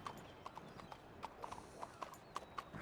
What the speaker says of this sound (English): Livy, your horse is being funny